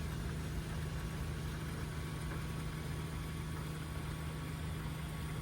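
A Mazda car engine running rough and bogging, heard as a steady low drone with a constant mechanical hum, fairly faint and unchanging, with no talking over it.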